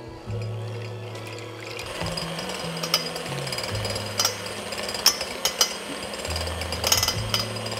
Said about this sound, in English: we're going to beat that with an electric mixer until it's pale and kind of thick